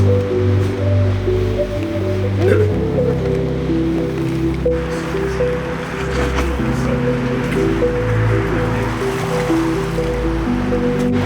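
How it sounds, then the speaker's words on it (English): A large, fast-flowing, high-volume river in Alaska roars in a loud, continuous, close rush of churning water with no breaks. "That's a big river. There's a lot of water in there."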